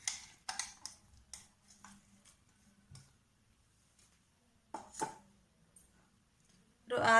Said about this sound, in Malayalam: ഇനി ഞാനിവിടെ ഇത്ര ചെറിയ ഉള്ളി എടുത്തിട്ടുണ്ട്. ഇത് നമുക്കൊന്ന് ചതച്ചെടുക്കാം.